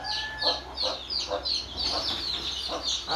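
Chickens cluck nearby in a quick series of short, repeated calls, several birds overlapping against a quiet background.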